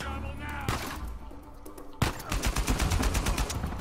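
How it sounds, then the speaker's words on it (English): Rapid gunfire in the video game Uncharted 4, a few quieter shots and thuds early on, then from two seconds a dense burst of automatic fire rattling steadily at close range. "Who's shooting me?"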